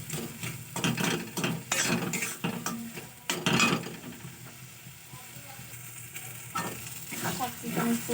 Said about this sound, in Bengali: সব কিছু আমি খুব ভালো করে খুন্তির সাহায্যে মেখে নিচ্ছি